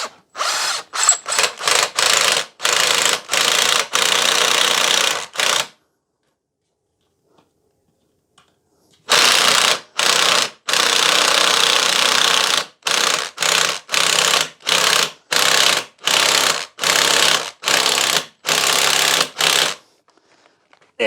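A power drill drives screws into a wooden batten, countersinking them in a run of short whirring bursts, a pause, then about a dozen rapid, evenly spaced pulses, loud and close with no voices.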